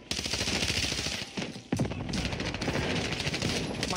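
Rapid automatic gunfire from the Warzone video game, dense continuous bursts with a brief pause midway, loud and close throughout.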